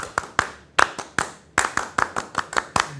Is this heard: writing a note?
no